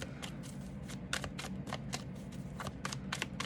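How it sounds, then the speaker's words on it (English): Tarot cards shuffled by hand in quick, rhythmic riffle bursts, close and crisp, repeating steadily without any talking. "I don't even know if you guys can see me shuffling"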